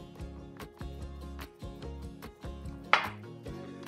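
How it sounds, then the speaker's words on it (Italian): A knife chopping eggplant into medium-large cubes on a board, with regular, close, dull knocks about every half second and one sharper clack near the end, no talking. "tagliateli a cubetti medio-grandi, in questo modo"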